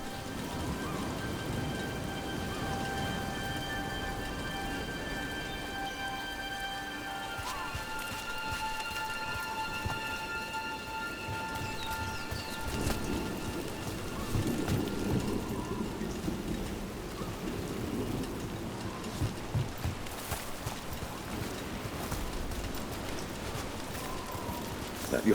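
Rain and thunder in the video game Dragon Age: The Veilguard: a continuous rainfall hiss throughout, with low rumbling swells of thunder building midway, while faint background tones sit beneath.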